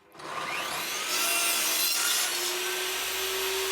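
A handsaw cuts through the end of a mixed striped hardwood box side to trim it back to a mitre, giving a steady, continuous rasping stroke sound, close and fairly loud, with no talking.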